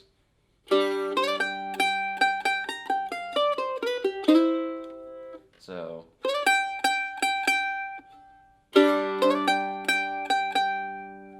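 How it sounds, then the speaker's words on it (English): A mandolin plays syncopated downstroke rhythms from a tune, bright plucked chords and notes landing in uneven, off-beat clusters, with a brief scratchy pause midway and a single spoken word at the start. "And then we're going to play some syncopated downstrokes."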